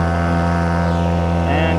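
Outboard boat engine running on an Intex inflatable raft, a loud, steady droning hum with strong tonal harmonics, close and continuous throughout.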